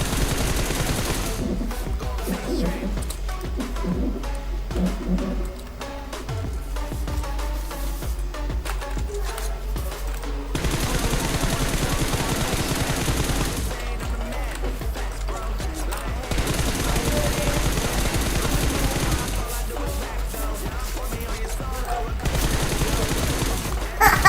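Automatic M4 rifle fire in PUBG Mobile played on an emulator, rapid bursts of shots repeating in several long strings separated by short pauses, loud and close.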